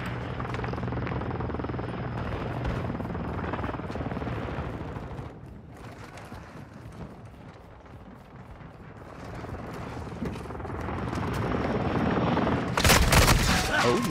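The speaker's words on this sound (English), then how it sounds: "Oh, chopper ship's over here." A helicopter gunship flies overhead in a shooter video game, its rotor drone holding steady, dipping and swelling again before a sharp, loud burst of gunfire at the end.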